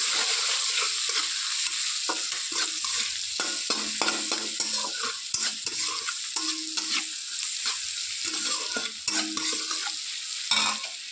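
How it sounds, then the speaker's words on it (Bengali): Onion and chili stir-frying in a pan, a steady loud sizzle running throughout with repeated scraping and clinking of a spatula stirring the mixture, close by and without talk. "পেঁয়াজ আর লঙ্কা দিয়ে একটু নেড়ে চেড়ে কষিয়ে নেব।"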